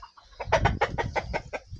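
A rooster's rapid run of loud clucks, about eight sharp squawky bursts in quick rhythm, close by.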